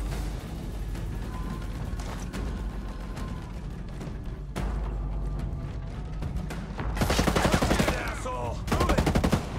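Sniper rifle and other gunfire from a Ghost Recon tactical game, with a dense rumbling mix of shots and mechanical clatter, rising into louder rapid bursts near the end.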